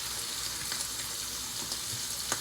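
Chicken pieces frying in hot oil, a bright, even hiss of sizzling grease close up, with a few faint pops and crackles scattered across it.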